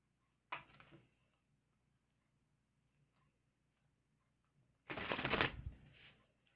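Two bursts of tarot cards being shuffled: a quick riffle, then a longer, louder shuffle after a quiet pause, close and clear with no talking.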